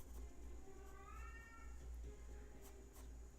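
A cat gives a single faint, drawn-out meow indoors, over a low steady background hum with a few soft clicks.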